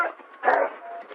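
A police dog barks and whines in a short, fairly loud burst of two or three yelping calls, close by, during an armed police confrontation.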